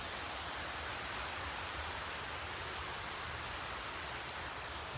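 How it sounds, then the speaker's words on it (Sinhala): Heavy rain pours down beside a river in Sri Lanka, a dense, even hiss of drops that stays constant and close throughout with no voices. "හොඳටම වහින්න ගත්තා"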